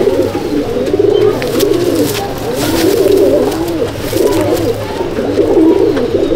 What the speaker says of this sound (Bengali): কালো দানা ভর্তি পায়রা